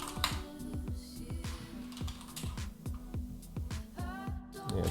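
Quick bursts of keystrokes clatter on a computer keyboard, close and fairly crisp, with irregular rhythm and short pauses between runs of typing.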